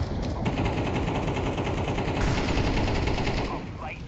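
Gunfire in the Counter-Strike 2 video game: dense, continuous rapid automatic shots rattling loudly throughout, with a slight change near the end.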